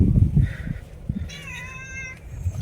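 A house cat meows indoors, with two distinct drawn-out meows, the second longer and wavering, close and fairly clear over low background rumble and handling noise.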